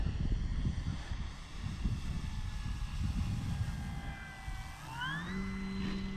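An E-flite Carbon-Z Cessna 150T RC airplane with a 2.1 m wingspan flies overhead, its electric motor whining steadily before the pitch climbs sharply near the end, heard alone amid light wind.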